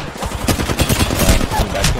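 Gunfire in the Apex Legends video game during a ranked match, a rapid series of close, sharp shots rattling continuously across the moment with busy game noise around it.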